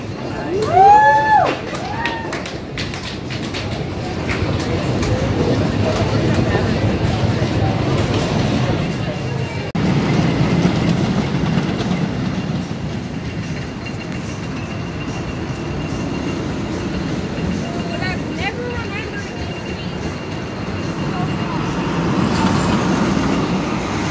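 The Beast roller coaster train at Kings Island rumbles and clatters along its track with a steady roar. Voices are heard faintly beneath it, rising briefly in a few spots.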